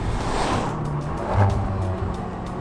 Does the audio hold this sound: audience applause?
no